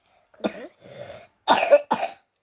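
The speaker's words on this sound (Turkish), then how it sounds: "öksürüp durma." Several harsh coughs close by, a couple of quick bursts with a brief pause between them.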